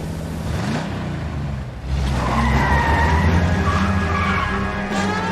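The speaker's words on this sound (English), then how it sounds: "Suspect vehicles engaged in illegal street racing." Street-racing cars in 1940s Los Angeles in L.A. Noire tear past with loud engine roar and long tire squeals and skids, the noise swelling midway and staying close and continuous.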